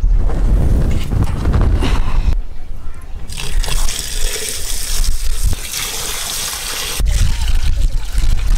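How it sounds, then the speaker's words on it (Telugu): Cow urine is poured into a drum of cow dung, making a loud, close gushing pour that pauses briefly and then resumes with splashing and trickling. "ఇప్పుడు ఆవు పేడ వేసుకున్నాం కదా తర్వాత ఆవు మూత్రం వేస్తాం"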